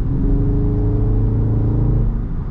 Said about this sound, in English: God, love this engine brake, and look at that